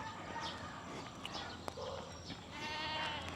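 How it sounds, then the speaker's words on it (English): Goats bleat faintly at a distance in a residential area of Quezon City, Philippines, a few scattered cries over a low outdoor background hum. "Okay. Goats."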